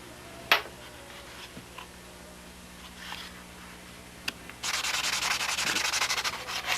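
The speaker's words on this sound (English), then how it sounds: "sanding this first coat of CA down, getting all the edges radiused" Steady abrasive sanding of a cyanoacrylate (CA) finish coat, rubbing back and forth close up, with a few light taps early on and louder, more continuous scrubbing in the final seconds.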